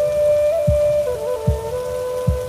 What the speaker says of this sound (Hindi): बारिश की रिमझिम पूरे अमृतपुर गांव को भीगाने लगी।